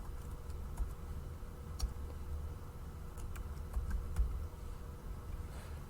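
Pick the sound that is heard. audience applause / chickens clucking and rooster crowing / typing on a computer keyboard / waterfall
typing on a computer keyboard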